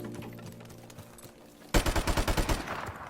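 Rapid automatic MP44 fire in Call of Duty, a loud burst of about eight evenly spaced cracking shots that erupts abruptly after a stretch of quieter background game noise.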